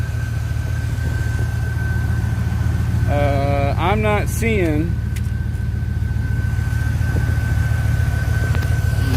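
A car engine idling while warming up during an antifreeze leak and thermostat repair, a steady low rumble throughout with someone speaking briefly over it partway through.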